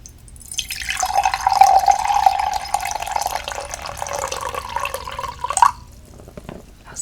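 Warm water streams steadily into a cup at a close-up tea service, a continuous gurgling pour building over several seconds and then cutting off abruptly, with a faint drip as it ends.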